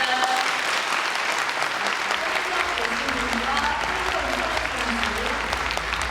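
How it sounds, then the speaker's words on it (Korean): Sustained, dense applause from a forum audience in Seoul, a steady loud wash of many hands clapping continuously throughout without pause. "박수 부탁드립니다."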